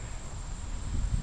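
A cicada in a garden tree gives a steady, high, continuous buzz at a moderate distance, over low rustling background noise.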